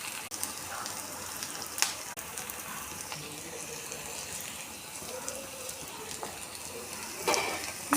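Black-eyed peas fry lightly in a pan with salt and turmeric, a steady low sizzle with occasional clinks of stirring throughout.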